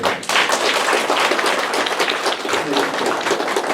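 An audience at a town meeting in Bugang-myeon, Sejong claps steadily, a dense, even patter of many hands close by that carries on for several seconds.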